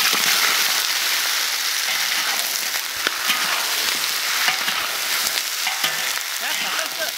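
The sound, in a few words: caramelizing sugar in oil in a wok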